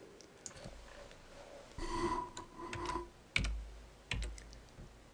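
Computer keys are tapped to rename a toolpath in CNC software, in a faint, irregular run of soft clicks and a few sharper taps, close and quiet, with no voices.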